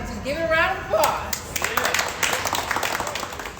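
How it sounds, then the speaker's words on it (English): A small group claps to celebrate the launch of a cable car ride for Native American Heritage Month; scattered hands start up after a voice and continue as a loose, fairly close patter over background noise. "Let's just give it a round of applause."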